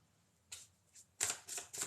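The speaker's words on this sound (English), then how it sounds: "shuffle my deck" A deck of tarot cards is shuffled by hand in a few soft, riffling bursts, faint at first and then quicker and louder near the end, close by and with no talk.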